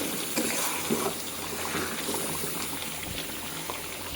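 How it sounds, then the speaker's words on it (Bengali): Leftover meat simmers in a pot in a home kitchen, giving a faint, steady bubbling with soft liquid burbles and a low background hum throughout. "কিছু মাংস আছে তো সেগুলাই জাল দিচ্ছি"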